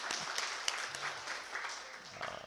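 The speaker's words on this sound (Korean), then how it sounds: "박수 치세요" A church congregation at a Korean worship service claps in welcome, a brief moderate burst of applause with scattered louder claps and faint room murmur.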